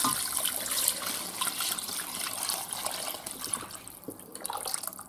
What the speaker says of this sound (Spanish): Movemos y vamos a cubrir con el caldo.